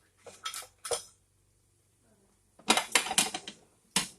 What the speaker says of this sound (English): I want to make sure that the ground beef is all the way cooked through before I drain it. So we're just going to keep breaking it up.